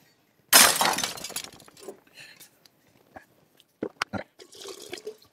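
Blueberry cider poured sloppily into a glass bottle gives a loud splashing rush that fades over about a second, followed by scattered small drips, clinks and trickles.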